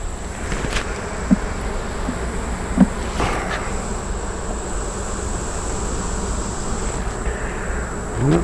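Honey bees buzz during a hive inspection, a dense continuous drone close by with a few louder individual passes, steady throughout and no talking.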